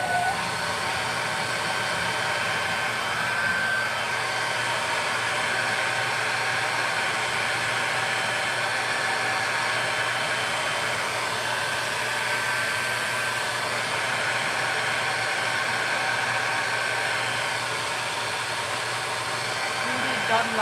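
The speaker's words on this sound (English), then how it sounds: "Let's dry that paint job real quick." A hair dryer drying fresh paint on a dresser gives a steady, loud, continuous blowing whoosh with an even airy roar that holds level throughout.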